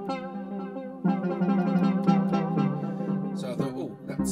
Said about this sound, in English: there's steel drum lead, which sounds like this.